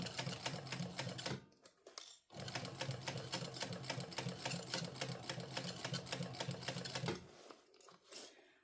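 A sewing machine stitches an Acacia crossbody bag in rapid, even needle clatter, pausing briefly about a second and a half in before resuming, then stopping near the end, with quieter handling sounds after.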